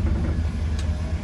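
A car engine idles with a steady, close, low rumble as the vehicle is stopped and shifted into park, with no voices over it.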